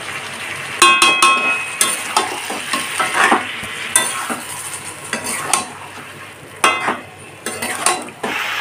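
Jackfruit and potatoes sautéing in a pan with a little added water over a high flame, with steady sizzling broken by repeated sharp scrapes and clinks of a spatula stirring against the pan.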